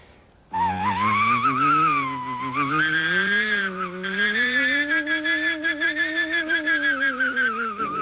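A man vocally imitates a car stuck in snow or mud spinning its tires, a loud sustained whining hum that rises and wavers in pitch, then pulses rhythmically toward the end.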